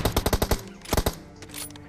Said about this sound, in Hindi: अब यार तुम ये नो स्कोप वाला हेडशॉट देखो